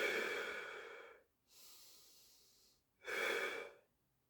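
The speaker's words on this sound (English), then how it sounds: "And once you've done those 6 deep breaths" Slow, deep breathing during an end-of-day Pilates stretch: a long audible exhale, a soft inhale, then another strong exhale, close and quiet with no talking.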